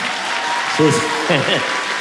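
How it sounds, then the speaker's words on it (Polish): Applause from an audience at a meeting with Andrzej Wajda at Przystanek Woodstock 2010 rolls on steadily, with a voice speaking briefly over the clapping. "Brawa."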